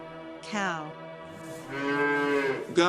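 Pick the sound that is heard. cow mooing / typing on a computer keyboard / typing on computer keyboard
cow mooing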